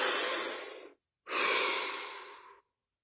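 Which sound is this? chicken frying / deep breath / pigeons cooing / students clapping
deep breath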